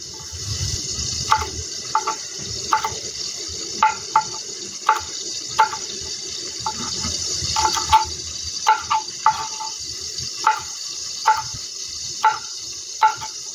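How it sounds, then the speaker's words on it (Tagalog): Fish frying in a pan gives off a steady hiss with regular sharp pops and spatters, close by, with no talking. "Nagpiprito po ako ng isda."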